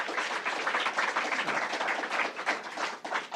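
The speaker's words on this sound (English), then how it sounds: "So I want to give all of you a round of applause for what you do for us." Dense, steady applause from an audience at a governor's bill-signing event, filling the whole short stretch at moderate level with no voices over it.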